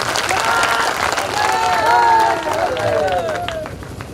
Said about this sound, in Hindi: परशुराम राजभर जी का एक बार जोरदार ताली बजा के स्वागत करेंगे